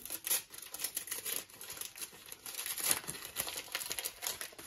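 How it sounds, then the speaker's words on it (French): A parcel's packaging is torn open by hand without scissors, giving close, quiet crinkling and ripping of paper and plastic in irregular bursts. "Je suis obligée d'arracher, j'ai oublié mes ciseaux"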